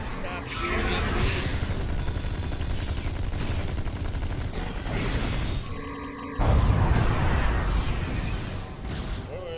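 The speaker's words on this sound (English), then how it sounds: "Stop shooting at me." Rapid sustained gunfire and blasts in the Star Trek Online video game, loud and dense throughout with a heavier burst near the end, while a player speaks over it.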